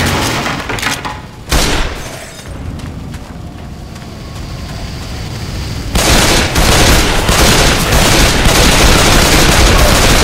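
Gunfire in the zombie shooter Left 4 Dead 2, a fairly loud, dense run of shots with a brief lull before a sustained, heavier barrage in the second half.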